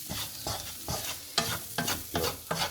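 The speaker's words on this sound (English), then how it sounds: "Give that a bit of a stir." Red onions and paprika stirred in a non-stick pan for a sausage casserole, rhythmic scraping strokes about every half second over a soft constant sizzle, close with no talking.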